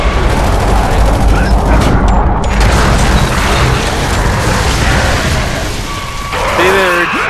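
Mortar fire in the video game Gears of War 3, a dense, loud run of booms and gunfire bursts layered with game effects, with voices talking over the action.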